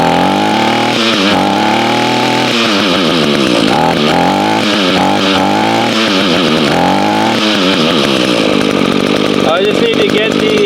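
An Echo string trimmer engine runs after a carburetor adjustment, revving up and dropping back repeatedly in a loud, raspy two-stroke whine.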